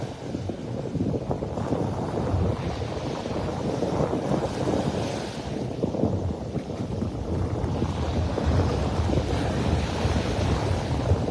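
Waves break and wash along the shore on a beach in North Naples, Florida, under rain clouds, a continuous roar with wind buffeting the microphone. No voices are heard.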